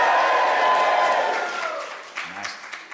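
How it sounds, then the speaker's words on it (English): A stand-up comedy audience cheers and applauds loudly, the roar fading over a few seconds into scattered claps and murmurs. "give me a cheer"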